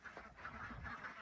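Ducks and ducklings on a farm give soft, muffled quacks and honking calls, faint and distant, repeating several times over a low background.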